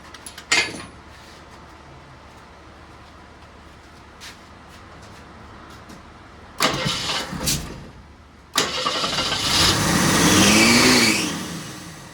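A Jeep CJ7 engine with a freshly refitted carburetor cranks for about two seconds, catches loudly, and settles into a rough, rising idle, heard close by after a quiet stretch with a few faint clicks.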